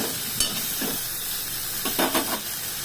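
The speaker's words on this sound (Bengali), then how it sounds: "আমি এবার কম আঁচ করে একটু নাড়বো আর ঢেকে ঢেকে দেবো" Meat cooking without oil in a pan over low heat sizzles softly while a utensil stirs it, giving a few faint scrapes and clinks over a steady hiss.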